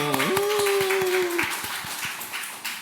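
A church congregation gives birthday applause in a steady, rhythmic patter of clapping from a small group. A brief whining, voice-like tone rises at the start.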